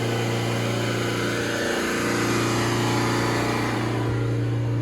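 A Vauxhall Astra in DPF limp mode holds a high, steady rev, its engine drone continuous and close, with a brief dip in pitch partway through and no talking.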